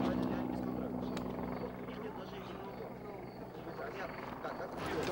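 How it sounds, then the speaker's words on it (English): Low rumbling drone of a helicopter, fairly faint and distant, with a steady throbbing beneath some talking. "It's a helicopter."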